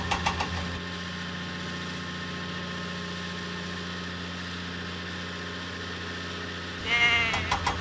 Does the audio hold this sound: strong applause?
no